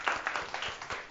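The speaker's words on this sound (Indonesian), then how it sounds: "bagi tepukan." Brief burst of scattered hand clapping from a Year 5 science classroom, a few quick claps close together, fairly faint.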